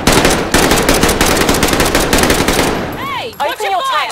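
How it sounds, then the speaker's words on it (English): Rapid machine gun fire from a video game on an AMD Radeon R9 M360 laptop, a loud continuous burst of automatic shots lasting about three seconds before cutting off to sparse bursts and whooshing effects. "Gunfire will alert you to an enemy presence."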